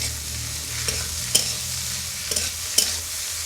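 A spoon stirs chopped onions and grated potatoes frying in hilsa fish oil, sizzling steadily in the pan. Scrapes and knocks of the spoon recur every second or so, with no talking.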